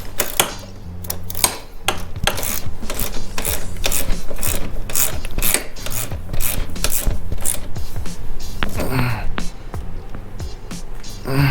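A ratchet wrench tightens the sway bar bolts on a Can-Am Ryker, loud rapid clicking in repeated bursts at close range, with a short pause and a clank near the end.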